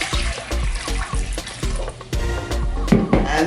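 Water pours and splashes into a bowl as the base for zalabia dough, a loud, close, irregular sloshing and gurgling that goes on throughout.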